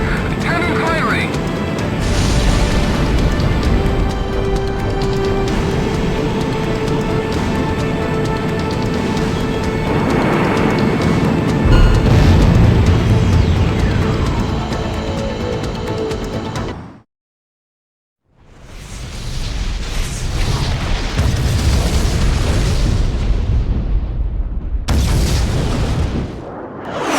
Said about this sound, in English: The shot cannon is preparing to fire again. In 5 seconds. 3, 2, 1. Cannon firing!